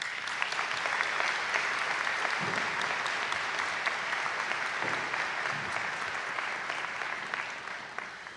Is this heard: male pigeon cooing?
no